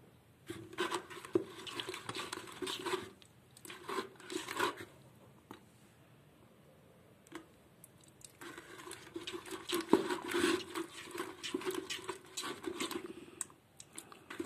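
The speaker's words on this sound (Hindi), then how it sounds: "दोनों को मिक्स कर देंगे अच्छी तरह से पैंट में पूरी तरह से मिक्सिंग कर लेना इसको" Paint colours being stirred together in a container to mix olive green, soft intermittent scraping and rubbing strokes in short bursts with quiet pauses between, close and faint.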